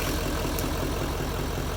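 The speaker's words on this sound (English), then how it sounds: "kind of loud out there probably with the truck idling" An LML Duramax diesel truck engine idles nearby, a loud, steady low rumble that holds constant throughout with no talking.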